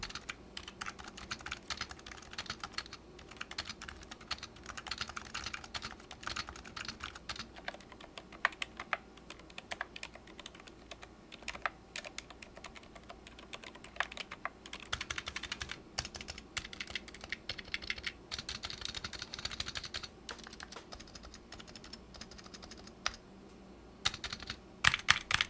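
Typing on a Razer Huntsman Mini keyboard fitted with silenced, sound-dampened Roselio switches, stock and unlubed, gives a steady run of soft, muted keystroke clacks with a few louder taps near the end, heard alone at low level.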